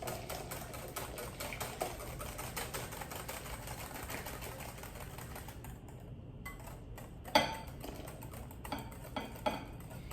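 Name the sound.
whisking custard vigorously for crème brûlée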